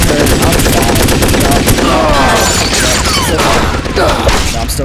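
Rapid bursts of gunfire in The Godfather video game, dense and continuous automatic shots with loud, close reports filling the whole stretch.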